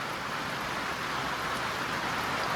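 Autumn rain falls outdoors on an Ohio goat farm, a steady, even hiss of drops on surfaces with no breaks.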